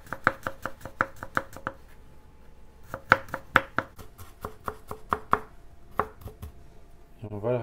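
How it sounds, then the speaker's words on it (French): Garlic being finely chopped with a knife on a board, a rapid series of sharp, close knocks in uneven bursts with brief pauses between runs. "On va hacher finement notre ail."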